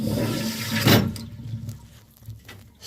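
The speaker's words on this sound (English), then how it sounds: "Something is not letting the toilet flush." A flushometer toilet with a faulty diaphragm flushes in a loud rushing burst that cuts off abruptly, then trails into quieter trickling and gurgling water.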